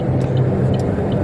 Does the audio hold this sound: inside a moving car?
yes